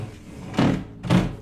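Heavy iron door in a modern two-storey industrial-style house, swinging on only three hinges, giving two dull scraping, thudding bursts of creak and knock, close and loud with no speech.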